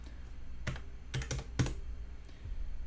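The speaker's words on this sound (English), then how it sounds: "Type in minus 10, hit enter." A few distinct computer keyboard keystrokes land in a short cluster with a final harder tap, up close against a quiet room hum.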